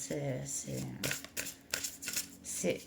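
Tarot cards are shuffled in crisp, riffling bursts near the microphone, with short pauses between them, while someone speaks over the handling.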